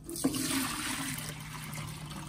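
Soaked rice, three cups, being strained for a steamed puto maya, water pouring and draining steadily through it, close and fairly loud, with a brief splash at the start and no talk.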